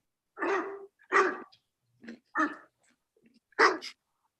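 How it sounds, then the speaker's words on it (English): A dog barks five times in separate bursts, fairly close and moderately loud, with short silent gaps and a faint breath or growl between them. "Did you not hear the dog barking?"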